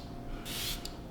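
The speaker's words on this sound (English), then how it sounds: "Okay, that's the spray." A Patrick Ta Dewy Milk Mist face mist spritzes once in a short, close, breathy hiss, with a second tiny puff right after and no one talking.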